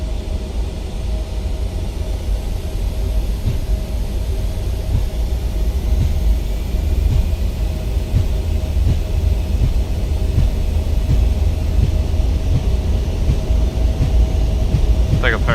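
ERJ-175 jet engines spooling to takeoff power on the runway at Fort Smith, Arkansas, in Microsoft Flight Simulator, a loud steady roar with low rumble and a faint whine, sustained and building slightly over the run.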